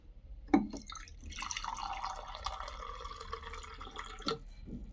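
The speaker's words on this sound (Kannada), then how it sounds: "ಇದಕ್ಕೆ ನೀರು ಫಿಲ್ ಮಾಡಿಬಿಡ್ತೀನಿ" Water poured into a cup holding a pinch of turmeric powder, starting with a few drips, then a steady close trickling fill for several seconds, ending with a final splash.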